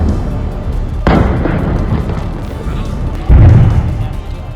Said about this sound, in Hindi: कुछ मिनटों में करीब 10 धमाके हुए